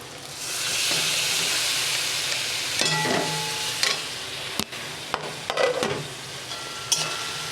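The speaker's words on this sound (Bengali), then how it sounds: "দিয়ে ভালো করে কষিয়ে নেব মশলার সাথে আলু আর মাছ" Grated fish and potato frying in oil with a cooked-down spice paste, a broad steady sizzle broken by scrapes and taps from a spatula stirring the pan, close up and with no talking.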